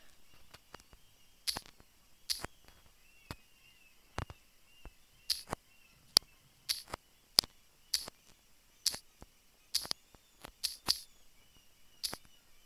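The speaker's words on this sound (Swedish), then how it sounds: "Det är skitmycket fåglar." Many birds chirping outside, sharp high chirps and calls scattered irregularly throughout, fairly close against a quiet background with no talking.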